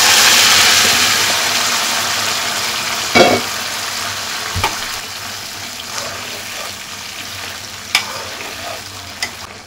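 Duck meat fries with onions in mustard oil, starting with a loud hissing sizzle that gradually eases. A few scattered knocks and scrapes of stirring break through the frying.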